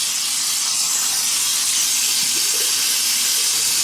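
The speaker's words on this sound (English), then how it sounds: "so let me wet the face" Steady hissing rush of running water from a tap at close range while the face is wetted before a shave, continuous and fairly loud with no talking.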